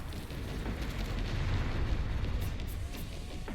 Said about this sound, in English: Now you can man the mortar and take out immediately the other mortar guy right there.